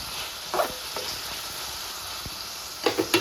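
Tomatoes cooking in a pan for an ivy gourd and green chili chutney give a steady soft sizzle and hiss, with a few brief spatters and light clicks of stirring.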